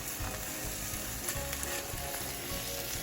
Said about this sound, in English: Our steaks, they're looking really good. They're on a low fire